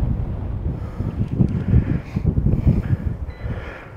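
Close, steady wind buffeting a microphone outdoors during a metal-detecting hunt, a low rumbling roar with gusts that swell and fade throughout.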